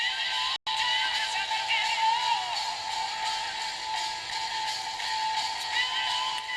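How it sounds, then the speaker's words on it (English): Music from a CD player comes through a homemade styrofoam cup loudspeaker driven by a coil and permanent magnet, a thin, tinny, midrange-heavy sound playing continuously and fairly loud after a brief dropout near the start. "So that sound is emanating from the cup"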